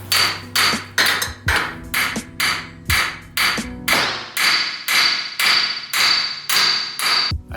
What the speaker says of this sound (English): I just grabbed a small ball peen hammer.